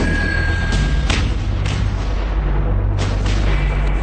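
An M777 howitzer fires during a Marine crew training exercise, giving a loud, close boom followed by several heavy thumping reports and rolling echoes that fill the few seconds without speech.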